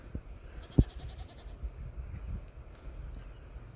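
Goats bleat faintly in the distance over low outdoor rumble on a farm, with one sharp knock near the start.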